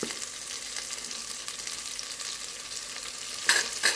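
Mint leaves sauté in hot oil for vegetable biryani, giving a continuous close sizzle with light crackling and a couple of sharp utensil clicks near the end.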